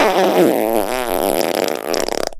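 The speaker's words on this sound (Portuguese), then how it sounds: "Imagina a vergonha que eu ia ficar se outras pessoas me escutassem eu me peidando toda." A loud, long fart sounds close up in a clothing store changing booth, starting as a low wavering drone and breaking into rapid sputtering pulses before it abruptly stops.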